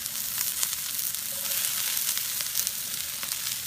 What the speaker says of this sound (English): the peppers are ready to get placed into the pan.